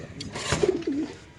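Lahori pigeons at a pigeon farm give a short, soft coo that rises and falls near the listener, with a faint rustle in the background and no talk.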